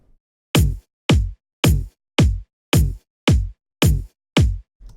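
Layered kick drum samples for a moombahton drop, a deep punchy kick topped with a higher click layer, hit eight times in a steady even pulse with clean silence between, ending on a quieter ninth hit.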